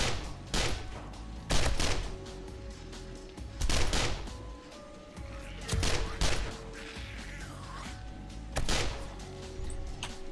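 Bursts of gunfire from the 7 Days to Die video game during a horde night, loud volleys repeating about every two seconds with short gaps between, game tones ringing in the background.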